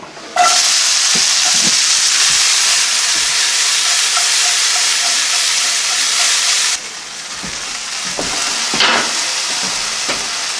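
Potatoes for hash browns fry loudly in a pan, giving a strong, steady crackling sizzle that dips for a moment and then carries on, with light scraping now and then and no talk.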